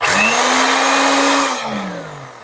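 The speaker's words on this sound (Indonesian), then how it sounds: "Setelah kita melakukan perbaikan pada mesin dinamo blender Philips ya" A repaired Philips blender motor whirs loudly and steadily, its pitch rising as it spins up and then falling away as it winds down near the end, with no talking.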